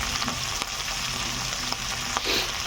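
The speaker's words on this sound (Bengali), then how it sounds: "এবার পেঁয়াজটা দিয়ে আমি পেঁয়াজটা ভাজব লাল লাল করে ভেজে নেব" Chopped onions frying in a pan for an egg dish: a steady, close, dense sizzle throughout, with a few faint clicks of a stirring utensil and no talk.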